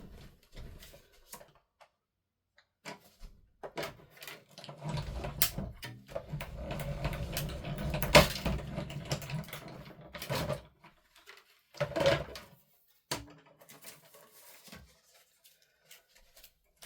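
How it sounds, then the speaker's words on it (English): Paper run through a cardmaking die-cutting machine for a junk journal page, a steady mechanical grinding and rumbling that builds for several seconds, then a shorter crank burst, with quiet handling clicks before and after. "so I'll put that through the machine"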